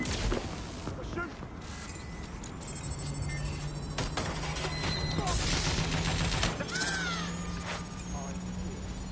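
Rapid gunfire bursts and volleys from the video game Watch Dogs: Legion, loud and continuous over a busy game soundscape, with brief voices calling out.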